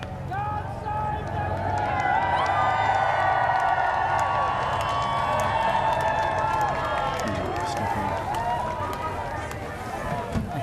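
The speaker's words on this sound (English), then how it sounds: "And a huge cheer" A large crowd cheers and shouts as King Charles arrives with a police motorcycle escort, producing a loud, sustained roar of voices with scattered whistles and clapping.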